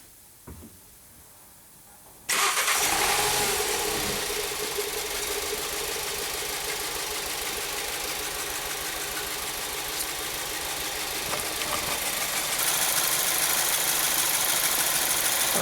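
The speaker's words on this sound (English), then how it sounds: "Let's start it up and see if it still misfires." A 2014 Volkswagen Jetta engine with a cylinder misfire cranks and catches, then settles into a loud, steady idle with an uneven, shaking pulse running throughout.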